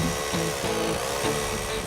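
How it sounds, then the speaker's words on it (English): A steady, loud rotary hammer drill with a carbide-tipped bit grinds continuously into stone, with rhythmic hammering pulses as the bit bores in, close up. "which is a rotary hammer drill with a carbide tip drill bit"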